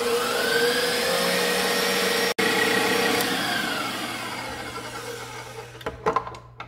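An electric mixer whirs steadily through pumpkin bread batter, a loud, constant motor hum that drops out for an instant, then winds down and stops, followed by a few clinks and taps.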